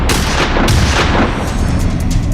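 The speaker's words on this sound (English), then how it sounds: "People heard multiple gunshots" Dramatized burst of several gunshots in a residential neighborhood at night, loud sharp cracks overlapping in quick succession with booming low rumble, close and alone.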